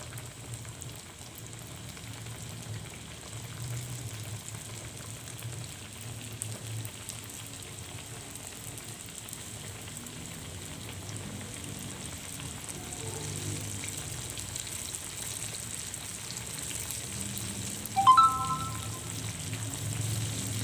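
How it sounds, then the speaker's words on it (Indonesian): Flour-battered tempeh frying in preheated hot oil over a high flame, a steady low sizzle and bubbling running throughout with a brief sharper crackle near the end. "Dan langsung aja saya goreng dalam minyak yang udah dipanaskan sebelumnya."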